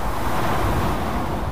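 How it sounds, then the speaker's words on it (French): Ocean waves wash onto the beach at La Baule in a continuous loud broadband roar, with wind buffeting the microphone and no voices. "on écoute même un peu les vagues"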